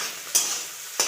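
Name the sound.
egg lightly frying in a pan for chowmein egg roll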